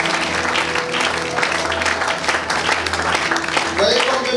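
A church congregation applauding and cheering, a thick continuous mass of clapping with voices mixed in, loud and close, swelling slightly toward the end.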